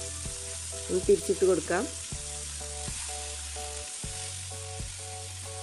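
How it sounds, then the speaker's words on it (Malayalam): Tandoori chicken pan-fries on a stovetop without an oven or grill, giving a steady close sizzle throughout, with a brief spoken line near the start. "ഇടയ്ക്കിടയ്ക്ക് ഇതുപോലെ തിരിച്ചിട്ട് നമുക്ക് ഫ്രൈ ചെയ്തെടുക്കാം."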